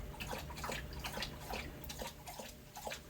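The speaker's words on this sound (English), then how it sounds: "Can you hear me over the dog drinking water?" A dog laps water from a bowl in a fast, steady rhythm of wet slurps, close and fairly quiet.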